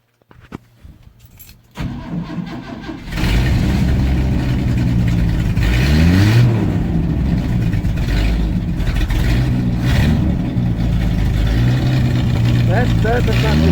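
A worn car's engine cold-starts after a few cranking attempts, then catches and idles loudly and roughly with repeated revs rising and falling, close by.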